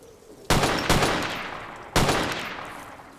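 Gunfire in the video game Zero Sievert: a few loud, booming shots with long echoing tails, close and alone without talk.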